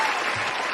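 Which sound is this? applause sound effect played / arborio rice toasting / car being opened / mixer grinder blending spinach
applause sound effect played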